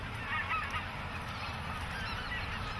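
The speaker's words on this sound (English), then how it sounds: "that is our white-fronted goose" A white-fronted goose, also called a speckle-bellied goose, gives faint honking calls against a steady, noisy outdoor background, with no voices.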